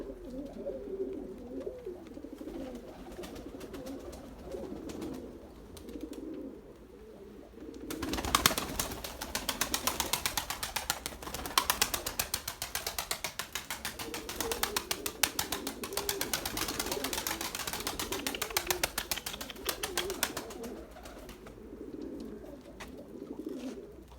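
Young white pigeons cooing, soft throaty calls repeating in the background, then a burst of loud fluttering wings and scuffling up close before the cooing carries on.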